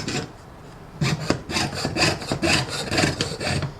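A jeweler's saw cuts through wood in quick rhythmic back-and-forth strokes, each rasping pass close and distinct, starting after a short quiet pause and continuing steadily.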